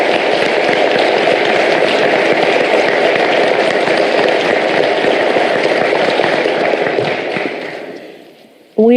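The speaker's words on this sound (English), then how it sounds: "let's take a moment to have a round of applause and thank these candidates for their participation" A round of applause from the audience thanking the candidates at a Pennsylvania governor debate in Carlisle, loud, dense and sustained, tapering off at the end just before a voice begins.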